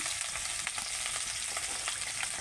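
Vegetables and spices frying in a pan give a steady, close sizzle throughout, with a few brief stirring clicks and no voices.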